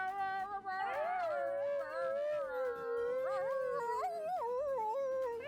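A dog howls in long, wavering, sliding tones that rise and fall continuously, loud and close, with steady sound underneath throughout.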